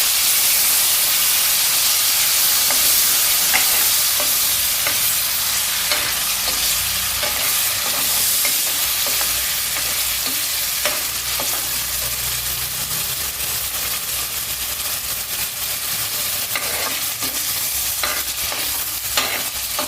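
Onion paste sautés in ghee for chole, a loud continuous sizzle punctuated by repeated spoon scrapes and taps against the pan, nearby and without speech.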